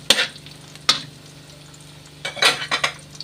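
Ingredients for a squash, string bean and crab dish are stirred in a hot pan, with a low steady sizzle under bursts of scraping and stirring at the start, around one second and again near the end.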